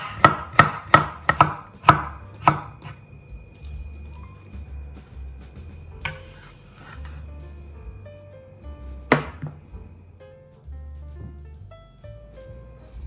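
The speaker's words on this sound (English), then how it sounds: "50g of cucumber. Slice into rounds." A knife slices cucumber into rounds on a cutting board: a quick run of about eight crisp, close chops in the first few seconds, then a couple of isolated knocks amid quiet kitchen handling.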